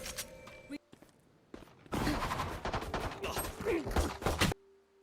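Gunfire from the video game Valorant rattles out in a dense burst of rapid shots for a couple of seconds, loud and close, preceded by a few quieter shots and thuds.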